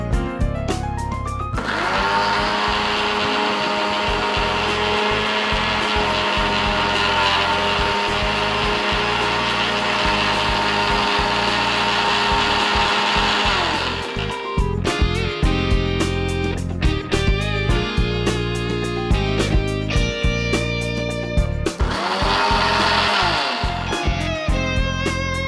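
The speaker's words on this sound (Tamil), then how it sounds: "மிக்சி ஜாரில் போட்டு அரைச்சி எடுத்துக்கலாம்." A mixer grinder blends tulsi leaves with water in a loud, steady whirring run, then stops briefly, followed by a second short burst of grinding.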